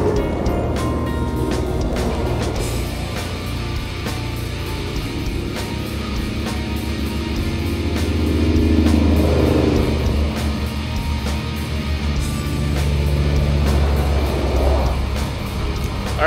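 Steady road rumble from trucks rolling south in a convoy on Highway 37, a broad continuous drone that swells mid-clip as heavy vehicles pass close by.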